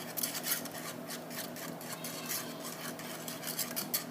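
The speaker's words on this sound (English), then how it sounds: "And you're going to stir this up with a fork." A fork stirs milk into potato flakes in a bowl, giving a quick rhythmic scraping and rasping with sharp clinks against the sides, close and fairly quiet without talk.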